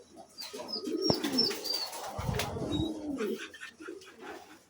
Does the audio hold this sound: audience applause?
no